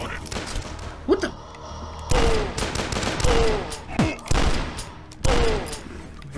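Turret gunfire in the shooter game DUSK, with dudes up on a mounted gun firing it: loud repeated bursts and heavy booming shots that keep starting and stopping over several seconds.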